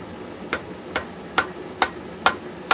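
Six sharp, evenly spaced hammer blows ring out on a rivet being domed over while forging, close and clear with short gaps between strikes.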